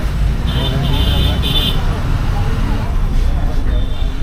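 An SETC interstate bus travelling on the road toward Kumbakonam, with a steady low engine and road rumble, passing traffic and a few brief high horn-like tones, with voices talking inside the bus.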